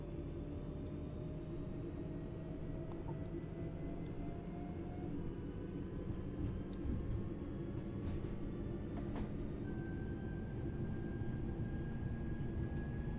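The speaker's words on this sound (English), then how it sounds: "This train's not very loud" Train running in Train Sim World 5, a quiet, steady low rumble with a faint whine, rising tones and a few soft clicks, continuous at moderate level throughout.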